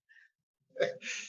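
A single close sneeze, a brief inhaled catch followed by a sharp burst and a breathy tail, preceded by a faint short sound.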